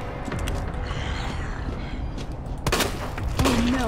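Gunfire in the Resident Evil 2 video game, a few sharp shots near the end over a dense, rumbling game soundscape, with no talk.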